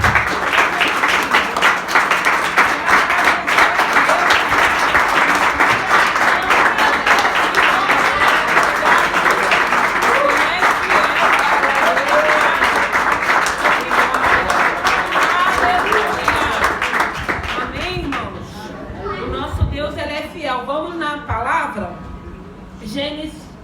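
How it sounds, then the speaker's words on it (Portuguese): Church congregation claps together in praise, a sustained dense round of hand claps lasting most of the clip, with a voice speaking over it before the clapping fades out near the end. "eu quero que os irmãos dar uma salva de palmas para Jesus"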